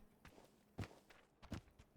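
Footsteps of someone running on the floor above in a video game, a few soft muffled thuds at an uneven pace, faint and distant, with no talking.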